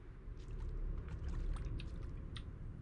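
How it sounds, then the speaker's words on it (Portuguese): Footsteps run through water in the video game The Alien Cube, making soft, continuous splashing and sloshing at moderate volume with no voices. "É melhor eu parar de correr na água"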